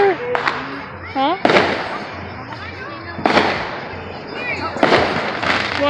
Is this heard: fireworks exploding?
yes